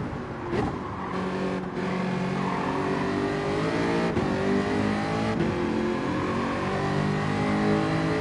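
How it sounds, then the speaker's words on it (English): Jaguar race car in Gran Turismo 7 roars steadily for about eight seconds, engine note rising and falling with brief gear-change dips, loud and continuous with no talk over it. "Pretty throaty, the old Jag."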